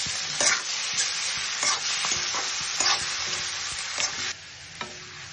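Chicken pieces frying in a hot pan are stirred steadily, a continuous close sizzle broken by repeated scraping strokes of the spatula every second or so, with no voices.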